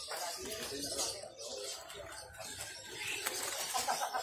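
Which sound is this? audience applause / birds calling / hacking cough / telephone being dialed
birds calling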